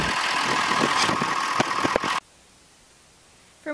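A Ford F250 pickup with a 6.7 liter V8 engine runs at idle, a steady close rumble that stops abruptly partway through, followed by near silence.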